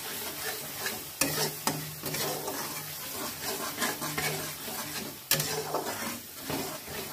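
Potatoes and peas stirred and fried in a pan, a steady close sizzle with scraping stir strokes breaking through at intervals, no voices.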